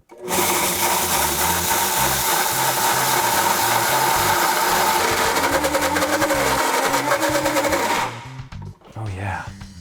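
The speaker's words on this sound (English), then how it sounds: "if you have a high-speed blender, you can make your sunflower seed butter in here, which is what we're gonna do with our blend tech" A Blendtec high-speed blender grinds sunflower seeds into butter, a loud, dense, churning motor roar with a pulsing low rumble that shifts as the mixture thickens, then cuts off abruptly near the end, followed by brief rattling.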